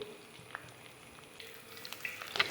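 Ribbon pakkavada deep frying in hot oil with curry leaves and crushed garlic, giving a faint, steady crackle with scattered sharper pops that grow busier toward the end.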